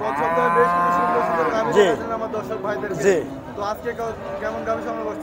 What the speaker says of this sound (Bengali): চলুন সেই গাভীগুলো দেখি এবং আজিবার ভাইয়ের সঙ্গে কথা বলে এগুলোর দাম